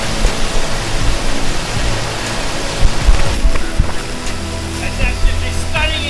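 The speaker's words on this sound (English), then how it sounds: "don't underestimate the power of falling water" A waterfall pours at a cave entrance on the Elands River Trail, making a loud, steady broadband rush of falling water that fills the whole stretch, with faint splashes and a voice briefly under it.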